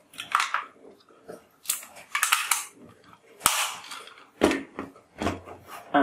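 Several rapid electronic gunshot effects burst from an ACP Bulldog toy revolver, sharp close cracks in irregular clusters with short decaying tails, loud and alone.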